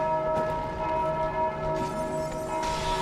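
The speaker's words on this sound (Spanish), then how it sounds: "Ahí tocó la campana." A large bell tolls in Dark Souls II gameplay, heard as sustained ringing tones layered over a steady game ambience, with soft clanks in the background and no talk.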